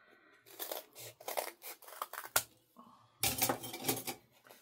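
Scissors snip through gelli print paper at a craft table, a run of quick, close crisp cuts and handling noises with short pauses between bursts.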